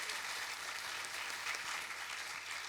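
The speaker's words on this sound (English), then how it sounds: "Would you please give Helen a round of applause?" A conference audience applauds for a speaker at a youth mental health forum, steady dense clapping filling the room throughout without pause.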